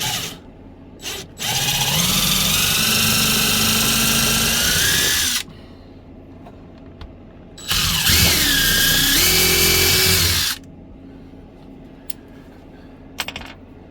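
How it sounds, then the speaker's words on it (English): A power drill whirs, drilling pilot holes in two long, steady bursts of a few seconds each, close and loud, with quiet handling clicks before, between and after. "Drill a couple of pilot holes."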